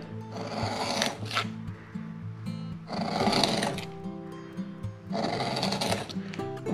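A knife carves seasoned birch wood for a kuksa, giving repeated rasping, scraping strokes in bursts with short pauses, close and fairly loud against a faint low background.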